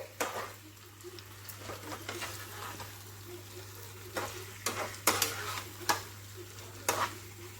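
Paneer cubes gently stirred through a spice paste in a pan: soft sizzling under a low hum, with irregular scraping and clinking strokes of the spatula, close and fairly quiet, no talk.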